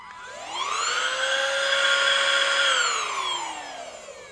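A small, compact handheld vacuum cleaner for desk and small-area cleanup whirs up, holds a steady loud motor whine for a few seconds, then spins back down, alone without talk.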